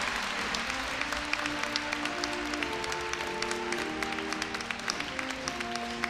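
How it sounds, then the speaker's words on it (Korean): Hall audience at a Korea University freshman entrance ceremony clapping for a scholarship recipient, a steady, moderately distant wash of applause with crisp individual claps over a low hum of background music. "장학증서를 받는 학생에게 큰 박수 부탁드립니다."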